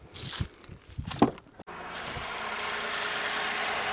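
A car's engine is started after a few clicks and handling noises, catches with a brief crank, then settles into a steady, even idle heard close up.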